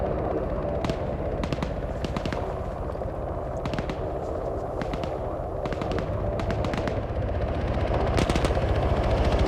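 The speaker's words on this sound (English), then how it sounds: "they're firing small arms at it to try to get it to stop" Sustained small arms gunfire in the Arma military shooter game, dense rapid bursts of automatic fire running continuously and loud throughout, with no talking.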